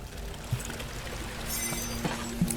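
A bucket of water being poured in Amnesia: The Dark Descent, a steady close splashing stream lasting a couple of seconds, with a few small knocks, heard alone.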